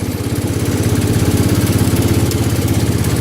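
A John Deere 110 lawn tractor engine, still cold, runs close by with a rough, steady chugging rhythm, loud and continuous throughout.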